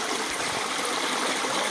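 A waterfall beside the Maa Narayani temple at Balugaon roars close by in a steady, dense white rush of falling water that never lets up, with no voices over it.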